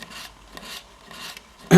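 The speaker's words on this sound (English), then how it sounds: "You just keep sanding it." Short, rasping back-and-forth strokes of 120 grit sandpaper dragged across the tongue of a Chinese grafting tool, three distinct scrapes close and fairly quiet, ending in a louder knock.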